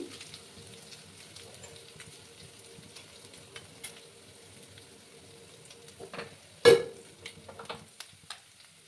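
Ginger pieces with a little salt fry quietly in a pan for a rohu fish curry with ridge gourd and potato. A faint low sizzle carries a few light stirs and one sharp loud clack near the end.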